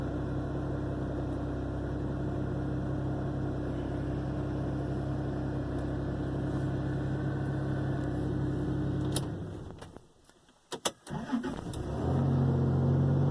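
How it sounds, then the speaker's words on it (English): A cold car engine idles fast and steady, then cuts out with a few clicks before starting again and settling into a higher idle. "A little fast idle. I think it'll do that till it warms up."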